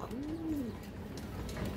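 A pigeon gives a single soft, close coo, one smooth rising-and-falling call standing alone over a quiet background.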